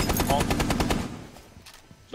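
Rapid sustained automatic gunfire in a competitive tournament video game, a dense rattling burst that fades out after about a second, with no speech over it.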